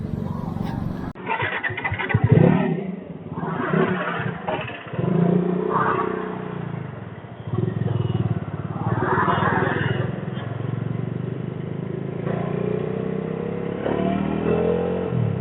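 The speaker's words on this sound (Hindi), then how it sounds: "तो फिर से हमारी राइड शुरू हो चुकी है" A Bajaj Dominar 400 motorcycle riding on the highway from Delhi toward Agra, with a continuous engine drone and wind rush that swells and eases with throttle, steady and close throughout.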